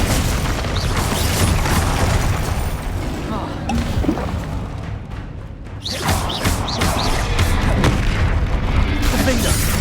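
Bombarda and Confringo explosion spells cast during a duel in Hogwarts Legacy, a run of booming blasts over continuous combat noise, with a voice calling out spell names over them.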